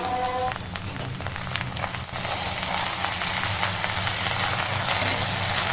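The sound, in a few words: okra pieces frying in oil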